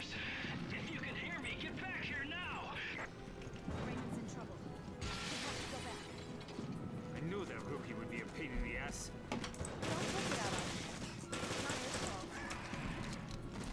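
Bursts of P90 submachine gun fire in Resident Evil Revelations, several rapid volleys separated by pauses, with mechanical clatter and other game sounds mixed in at moderate level.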